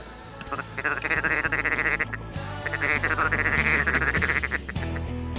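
Ducks quack on a small body of water during a waterfowl hunt, a dense, continuous stream of loud quacking that sounds like a duck call, blown close with a steady rhythm.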